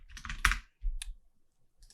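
Keystrokes on a computer keyboard while working in Houdini, a few close clicks clustered near the start and another brief burst about a second later, with quiet gaps between.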